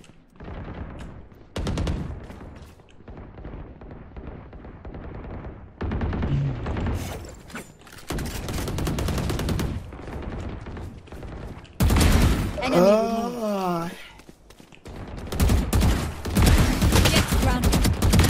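Gunfire in the Valorant video game crackles in loud, dense bursts and sustained volleys throughout, with an ability effect sweeping through midway and a voice talking over parts of the action.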